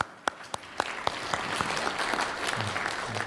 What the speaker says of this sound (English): I want to ask all of you to just give them a big round of applause.